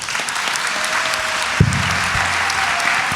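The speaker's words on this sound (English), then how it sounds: "So if we can have a round of applause for our speakers." Continuous audience applause for a panel of speakers at a political talk event, an even wash of clapping from a crowd with one brief thump partway through.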